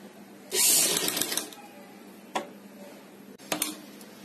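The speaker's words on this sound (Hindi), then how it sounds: "और एक सीधी सिलाई लगाएंगे।" An electric sewing machine runs in a short burst of under a second while stitching a straight seam on a neckline, followed by two brief clicking stops, close and clear.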